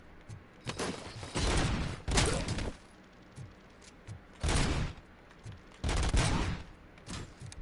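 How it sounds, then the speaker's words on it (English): Gunfire in a PS5 video game: several loud bursts of rapid shots, each lasting about half a second to a second, broken by quieter gaps, with no talking. "Is somebody shooting at me?"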